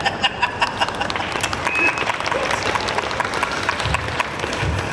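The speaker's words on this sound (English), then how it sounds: "All right, applause for that." An audience at a comic con Q&A panel breaks into applause, a burst of clapping and crowd noise lasting a few seconds, fairly close and moderately loud.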